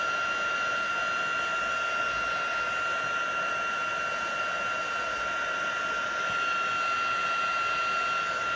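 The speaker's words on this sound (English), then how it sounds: "we're heating up these gorgeous butterfly images." A heat tool blows continuously to melt embossing powder on butterfly images on a card, a loud, steady, close whirring with a high whine throughout.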